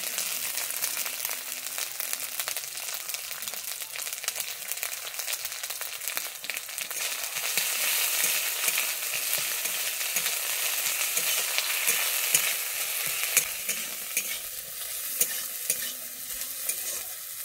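Ground chili paste sizzles in hot oil with ginger in a pan while being stirred, a continuous close crackling fry with soft scraping of the spoon, steady throughout and without talk.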